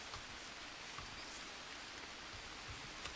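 Steady rain falling in the Green Hell survival game, a faint, even hiss of drops on surfaces with occasional louder patters, no voices.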